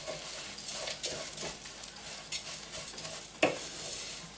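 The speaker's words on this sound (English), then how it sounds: "And I'm stirring it constantly because I don't want my rice to burn." Rice with almonds stirred constantly in a hot pan, with a soft continuous sizzle and repeated scraping strokes of a utensil, plus one sharper clack near the end, and no talking.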